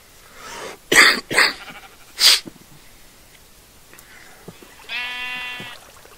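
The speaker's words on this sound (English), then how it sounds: "Sheep." A few short bleats from Minecraft video game sheep, followed after a pause by a longer, buzzy bleat, clear and close with quiet gaps between.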